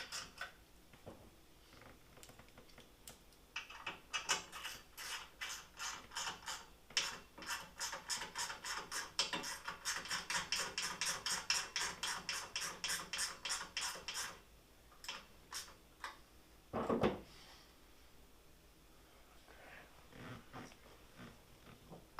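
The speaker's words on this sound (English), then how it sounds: "I think I actually need to ratchet it in a little bit here" A hand ratchet tightening bolts on a Jeep YJ rear spreader bar: a close, quiet run of rapid clicking that begins around four seconds in and continues for about ten seconds, then a brief clunk, with no voices.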